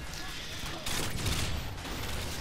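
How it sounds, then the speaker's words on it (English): Bursts of rifle fire in Modern Warfare 2 on the Quarry map, shots punching through metal cover. Dense, loud and continuous, with a heavier surge midway through, under someone talking. "I just shoot through the metal because it's good to know what material you can shoot through"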